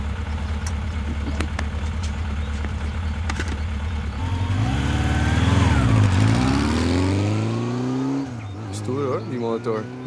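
A motorcycle engine idles with a low rumble, then revs up and down in rising and falling sweeps, close by and loud.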